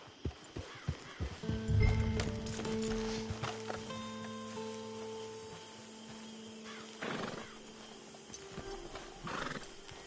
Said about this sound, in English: Hit your horse.